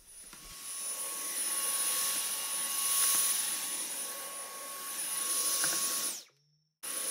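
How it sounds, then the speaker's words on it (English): A vacuum cleaner works over a violin case with a steady, loud whining roar that swells and eases as the nozzle moves, then cuts off abruptly near the end. "even if you vacuum the violin case, even if you do it vertically like this"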